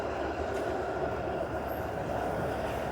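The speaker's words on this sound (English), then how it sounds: "There goes another streetcar." A streetcar rumbles past on a Toronto city street at night, its steady rolling hum loud and close, with no talk.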